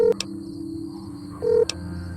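Touch-tone telephone dialing in the video game Fallout New Vegas: two short bursts of beeps about a second and a half apart over a low steady hum, with no voices.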